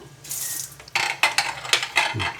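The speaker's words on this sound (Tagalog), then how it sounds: "Malakas naman yung bidet." A hissing rush of water spray from a bidet in a resort restroom at Sinagtala, Bataan, starts, then continues in uneven bursts with clattering, mechanical knocks, close and fairly loud.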